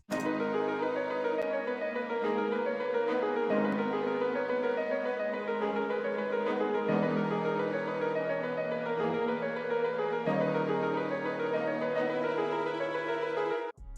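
Layered beat melodies built in FL Studio, with strings and a Yamaha Grand Piano playing sustained chords together, changing every few seconds and steady in volume, with no voices.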